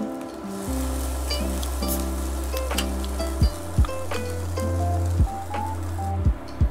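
Malai cheese sandwiches cooking in a covered pan over a low flame, a steady close sizzle and crackle with a low hum under it and a few light knocks near the end.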